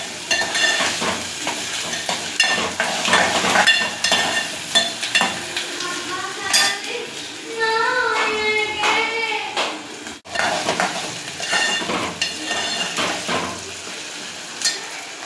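Onions and potatoes fry in hot oil with a continuous sizzle, mixed with frequent clattering and knocking of a metal spoon against the pot throughout.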